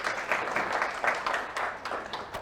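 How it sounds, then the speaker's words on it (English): An audience gives a short burst of steady applause, a dense wash of many hands clapping at moderate volume. "give him a clap"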